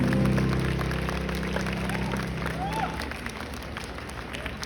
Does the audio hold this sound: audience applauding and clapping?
yes